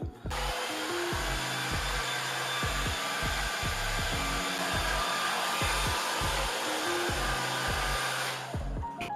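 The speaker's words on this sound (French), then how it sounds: "je vais sécher mes cheveux" A hair dryer blows steadily at close range while drying freshly dyed hair, its constant whooshing airflow broken by regular rhythmic dips as it moves, with no talk.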